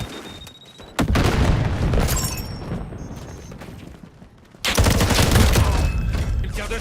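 Loud booming gunfire bursts in Modern Warfare 4 multiplayer, a sharp blast at one second then sustained rattling fire, a lull, and another heavy volley near the end, close and dense.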